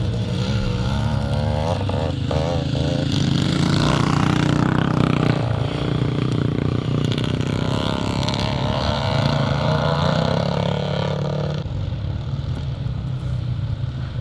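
Vintage motocross motorcycles, including a twin-port CZ, race past at a Scottish classic motocross meeting, a loud sustained engine roar that rises and shifts as the bikes sweep by, with a steady rumble throughout.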